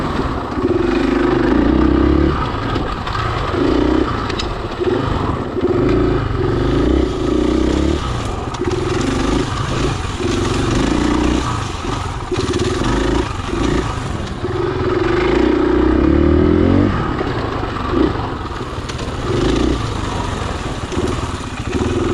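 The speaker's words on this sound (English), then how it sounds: "Even in this slower speed stuff, the motor is still plenty capable of pulling third gear" A KTM 500 EXC-F four-stroke dirt bike engine pulls in third gear at slower trail speeds, a loud, close, continuous throbbing drone that rises and dips with throttle and has a rattling edge.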